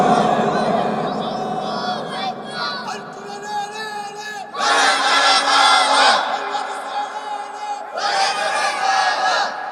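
A large crowd at an outdoor Islamic religious sermon in Noakhali shouts takbir in unison, loud roaring chants rising in two big surges after a preacher's amplified voice, with cheering and scattered cries.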